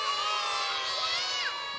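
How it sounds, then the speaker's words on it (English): A large group of schoolchildren shout an answer together as loudly as they can, a sustained high-pitched crowd yell filling the room from start to finish. "I want you to yell out the answer just as loud as you possibly can"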